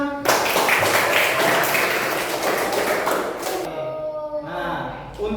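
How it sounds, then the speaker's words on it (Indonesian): Students in a classroom clap together in a loud, dense burst for about three and a half seconds, then the applause breaks off and a voice talks. "Tepuk tangan kita semua."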